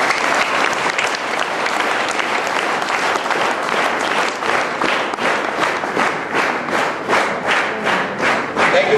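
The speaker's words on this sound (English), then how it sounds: "Let us give them a huge round of applause to all the appointment" An investiture ceremony audience claps for the appointment holders, dense sustained applause from a large crowd, loud and continuous for the whole stretch.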